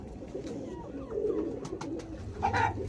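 High-flying pigeons coo close by, a soft, steady burbling that swells briefly near the end over light background noise.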